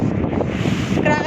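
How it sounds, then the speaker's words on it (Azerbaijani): Wind blowing hard outdoors, buffeting the microphone with a steady rushing roar across the whole moment, without any speech. "Nə qəşəng küləkli."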